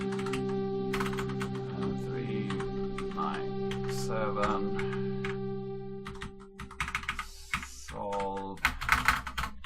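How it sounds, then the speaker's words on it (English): Rapid typing on a computer keyboard while solving a puzzle in the game MU Complex, a dense patter of key clicks over a steady electronic drone, with brief spoken numbers near the end. "So actually typing takes a lot of time."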